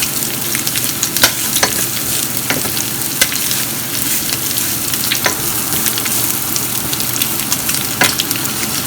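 Garlic sizzles loudly and constantly in a home frying pan over previously salted and peppered ingredients, with scattered scraping clinks from stirring close by and no voices.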